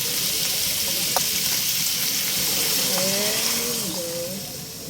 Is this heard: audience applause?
no